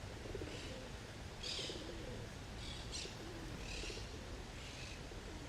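Birds calling among trees in Spain after a windy storm, with cooing pigeons or doves and scattered chirps repeating at intervals over a steady low rumble of wind or distant noise.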